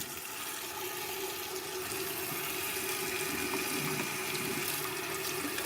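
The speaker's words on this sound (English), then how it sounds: "Kind of give it a rinse" Tap water runs steadily for a rinse at a sink, a continuous close wash of flowing water with no pauses or talk.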